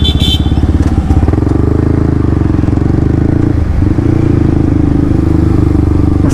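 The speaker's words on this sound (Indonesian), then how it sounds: "Ngeselin banget nih motor." A Yamaha R15 V3 motorcycle with a bore-up engine runs close and loud, a steady rough rumble with a brief dip and surge partway through, without talking.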